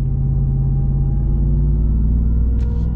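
A 2021 Ram TRX Launch Edition pickup truck engine idles with a deep, steady rumble and a strong low hum, close and loud, with a faint brief chirp near the end.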